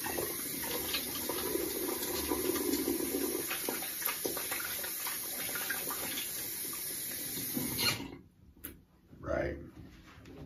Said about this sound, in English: My hands are oily, so good thing I've got my hand, body, and hair wash. Go ahead and wash that oil off.